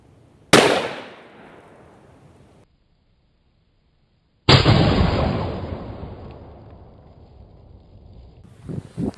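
.308 rifle shot striking a 12 fluid ounce bottle at point blank: a sharp loud crack that rings and decays, then after a pause a second heavy blast with a long splashy tail and a high ringing tone.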